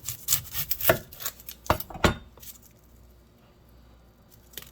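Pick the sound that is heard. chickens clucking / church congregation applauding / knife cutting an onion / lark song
knife cutting an onion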